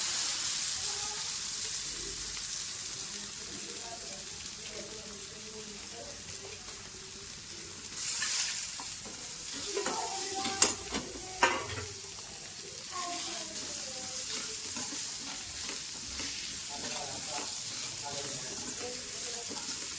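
Steady sizzling of boiled, squeezed bitter gourd pieces sautéing in a pan, with a few clinks and scraping stirs partway through, continuing evenly throughout.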